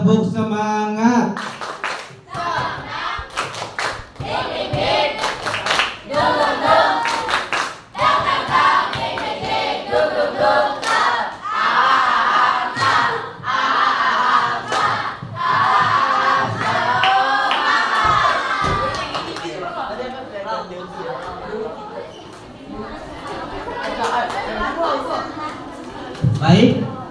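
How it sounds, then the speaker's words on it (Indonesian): A classroom of children performs the rhythmic tepuk semangat spirit clap, with patterned hand claps mixed with loud group chanting and shouts that go on for a long stretch, while a teacher speaks. "Semua ke sini tepuk semangat."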